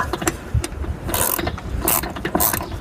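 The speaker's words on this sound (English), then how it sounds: "I just break it with the ratchet and then finish turning it with the extension." A ratchet turning a socket on a bolt in a tight spot, its pawl clicking in quick loud bursts between short pauses, close and clear.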